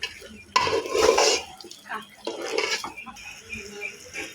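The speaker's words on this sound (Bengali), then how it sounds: "চালটাকে ভালো করে ভেজে নিব," Polao rice fries and is stirred in a pot for beef biryani, with close, fairly loud bursts of spoon scraping and clanking against metal between quieter pauses.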